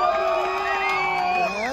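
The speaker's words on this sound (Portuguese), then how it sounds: "Esmagadora a torcida do Bruninho nesse momento." Fans cheer for player Bruno Barros during a tied head-to-head match, a loud, sustained crowd roar with rising and falling shouted voices and whoops layered together over about two seconds.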